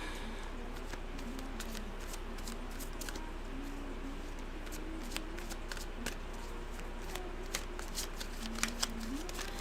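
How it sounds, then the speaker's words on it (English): Tarot cards being shuffled during a live reading, a soft continuous riffling and patter with occasional sharper snaps, close up and quiet with no talk. "while I'm doing this quick shuffle here"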